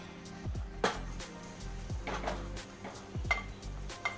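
A cooking pot of ash gourd pachadi is handled and its lid opened, with several close metallic clanks and scrapes of lid against pot at irregular intervals, no talking.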